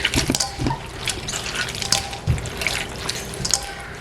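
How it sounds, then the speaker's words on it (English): Juice draining and dripping from salted caraille (bitter melon) into a bowl, heard as close, irregular trickles and drips with small splashes over a quiet background, with no voices. "As this juice is coming out, we will get a small bowl."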